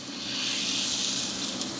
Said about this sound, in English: That's the sizzle. Whenever you're frying in a frying pan, if you don't hear that sizzle, you ain't cooking.